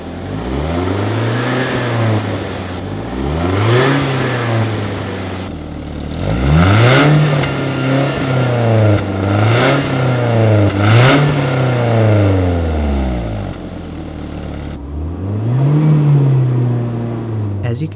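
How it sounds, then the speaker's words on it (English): A BMW E36 318iS with its old stock exhaust is revved repeatedly, the engine note rising and falling in about six distinct, fairly close revs with a somewhat flat, droning tone. "So let's listen to what it sounds like when I give it some revs."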